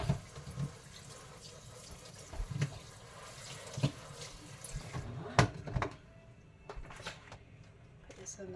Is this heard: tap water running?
yes